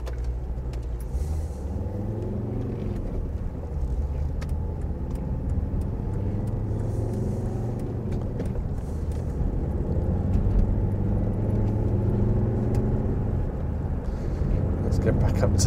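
A car drives along a road between Whitfield and Sandwich, its engine and tyre noise a steady close hum that builds slightly as it speeds up, with a person talking over it throughout.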